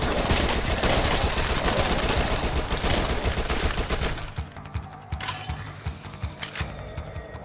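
Rapid submachine gun fire from the zombie shooter Dead Nation, a dense, loud stream of shots for about four seconds, then thinning into scattered bursts with mechanical clicks.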